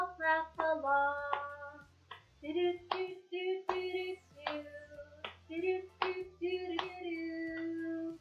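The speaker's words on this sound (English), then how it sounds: "Hands are for clapping. Clapping to this song. Hands are for clapping. Let's all clap along." Hands clap in a steady beat along with a sung children's song during an online storytime. The claps are close and fairly soft, landing on the beat under the melody.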